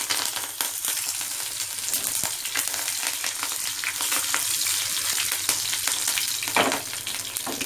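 Curry leaves dropped into hot oil for tempering Hyderabadi khatti dal, giving a loud, steady, close crackling sizzle that continues throughout without talk.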